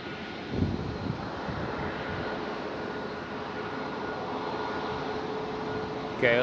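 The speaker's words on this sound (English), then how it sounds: "we've got Delta Airlines approaching the runway 24" A Delta Airlines A330 jet airliner approaching the runway at Schiphol gives a steady, broad engine roar at moderate distance, holding constant throughout with a brief louder swell near the start.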